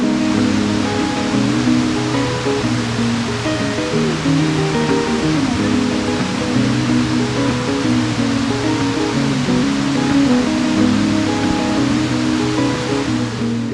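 The big waterfall at Plitvice Lakes National Park in Croatia is heard from a distance as a steady, unbroken roar of rushing water. It stays loud and even throughout, with no voices over it.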